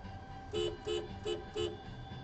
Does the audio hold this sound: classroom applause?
no